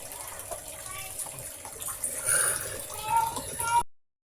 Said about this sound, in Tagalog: naglagay na ako ng tubig sa kaserola